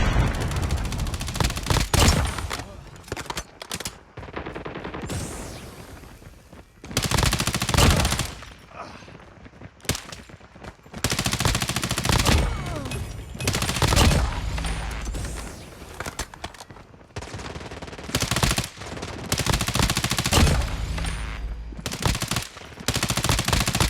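Rapid automatic fire from a Bal-27 rifle in a first-person shooter free-for-all match, loud bursts of gunfire recurring in clusters across the span with short quieter gaps between engagements.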